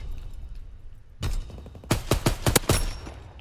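Gunfire in a World War II shooter game: a lone shot, then a rapid burst of four or five sharp, close, loud gunshots in quick succession.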